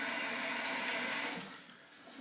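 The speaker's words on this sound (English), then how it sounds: "I'll soak the razor just under the hot water just to temper it a little bit." Hot water runs from a tap to soak a slant bar safety razor, a steady broadband gush that carries loudly for over a second and then eases off quieter near the end.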